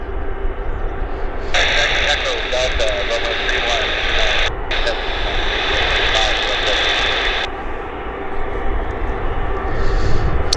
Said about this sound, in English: Here it is, United Airlines inbound from Denver.